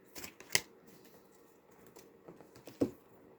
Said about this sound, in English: Shuffle, shuffle, shuffle. Spread them all out.